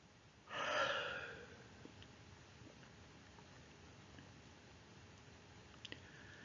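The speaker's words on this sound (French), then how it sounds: "nous accueillons un grand bâillement volontaire" A single deliberate, big yawn: a breathy open-mouthed exhale swells near the start and fades out, followed by quiet room tone with a few faint clicks.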